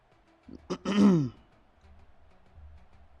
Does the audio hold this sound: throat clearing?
yes